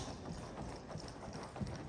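Horse hooves trotting in a schooling arena, with a steady, faint clip-clop rhythm and no voices.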